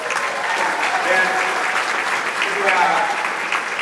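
Convention audience at a financial company breakout session claps in sustained applause, a loud, dense wash of hands with faint voices mixed in beneath.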